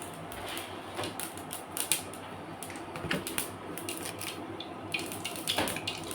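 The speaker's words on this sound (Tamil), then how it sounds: "கடுகு 1 ஸ்பூன் போட்டுருக்கேன்." A spoonful of mustard seeds crackles and pops in hot oil, giving scattered quiet bursts of sharp ticks with brief pauses between them.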